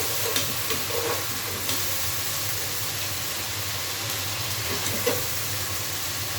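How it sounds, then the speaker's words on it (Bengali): A spice paste sautéing in a pan as garlic is added, steady close sizzle and hiss with occasional scraping stirs and soft clinks, no speech. "এই যে পেস্ট একটু কষিয়ে নিলাম রসুন দিয়ে দিচ্ছি"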